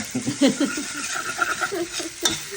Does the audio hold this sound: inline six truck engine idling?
no